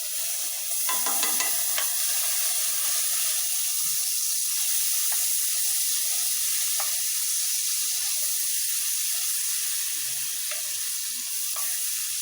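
A tablespoon of minced garlic sizzling in melting butter in a pan for green beans, a steady bright hiss throughout with occasional faint stirring ticks and pops, close and even, no voices.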